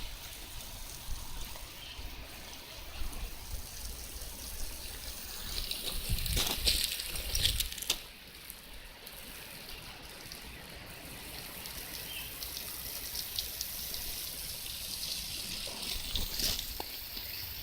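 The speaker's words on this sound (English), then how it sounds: "We're just going to put some water on these." Steady trickling water pours continuously onto plants in a vegetable garden box, with a brief louder splash midway and faint birdsong in the background.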